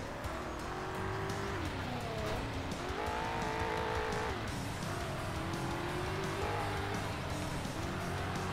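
Car racing engine in the video game Carmageddon: Reincarnation, a steady droning motor whose pitch sweeps up and down through gear changes over about eight seconds, with a touch of tire squeal, continuous and fairly loud.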